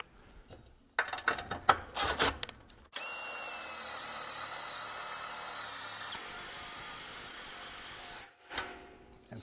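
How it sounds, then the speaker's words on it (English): A power driver drives fasteners through a pergola post top plate into the post mount: a few short bursts and clicks, then a loud steady whirring run of several seconds, ending with a brief final spin. "fasten that post top plate to the post mount"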